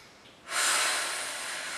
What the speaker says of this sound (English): Let's do 2 more breaths here.